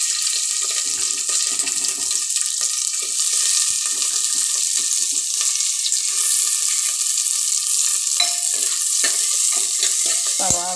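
Onions sizzle in a pan with ginger and garlic for a Kerala potato curry, a steady bright hiss running throughout with occasional stirring scrapes and clinks, close and fairly loud, no talking.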